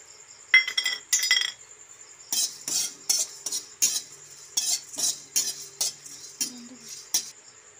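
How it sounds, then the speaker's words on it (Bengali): Whole coriander and cumin seeds dry-frying in a pan, stirred with repeated sharp metallic clinks and scrapes coming in short, uneven bursts, close and fairly quiet with no talking. "তারপরে গোটা ধনে আর গোটা জিরে ভেজে নেব।"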